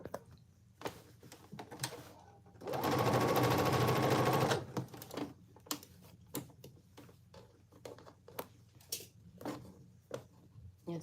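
A sewing machine stitches cargo pants in a short, loud burst of about two seconds, surrounded by quieter clicks and fabric handling.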